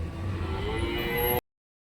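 Cattle at the Orappam cattle market in Krishnagiri district, a low, drawn-out moo over steady market background noise, close and clear, ending abruptly.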